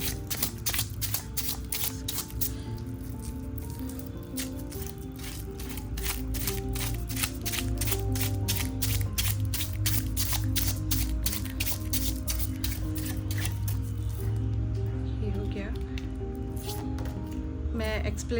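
Tarot cards drawn from several decks and handled, a steady run of crisp shuffling and flicking clicks over a constant low music bed, close and fairly loud throughout.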